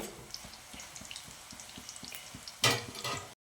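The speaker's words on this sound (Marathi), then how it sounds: "अशा प्रकारे राऊंड राऊंड करून तळून घ्यायचं" Besan sev frying in hot oil gives a soft, close bubbling sizzle with light rhythmic ticks, then a louder burst of hissing spatter near the end before the sound cuts off.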